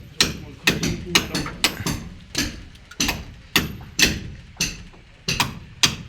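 A mason hammer strikes repeatedly during a small window installation behind a house, sharp knocks landing roughly every half second in an uneven rhythm, close and fairly loud.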